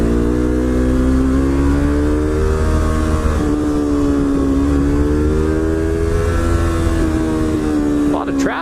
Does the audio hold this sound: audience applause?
no